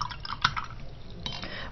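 A watercolor paintbrush swirls in a cup of rinse water, producing soft sloshing and light clinks against the container, with a sharper knock near the start and another later.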